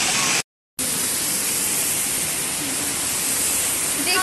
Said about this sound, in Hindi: बारिश बहुत ज्यादा तेज है